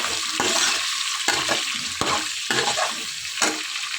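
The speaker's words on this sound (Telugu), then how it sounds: "ఇవన్నీ వేసుకొని కొంచెంసేపు ఆయిల్లో ఫ్రై చేసుకోవాలి" Tomatoes, onions and green chillies frying in oil for biryani rice, a steady close sizzle broken by repeated scraping stirs of a spoon against the pan, with no talking.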